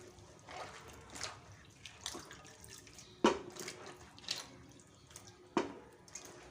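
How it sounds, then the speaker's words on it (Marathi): Okra washed by hand in water, faint intermittent splashes and sloshes with a few sharper drips and plops, quiet and close. "मी आता सर्व भेंड्या ज्या आहेत छान स्वच्छ धुवून घेत आहे"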